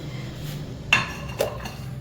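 Two sharp metallic clinks of a utensil striking a pressure cooker as onions are added to mutton for village-style thecha gosht, heard over a low steady kitchen hum.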